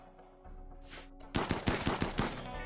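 Rapid bursts of gunfire from the colony-building video game Rimworld crackle in close, sharp volleys through the second half, after a quieter stretch of game ambience and a brief whoosh.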